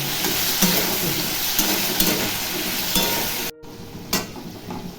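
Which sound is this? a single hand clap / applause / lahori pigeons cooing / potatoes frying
potatoes frying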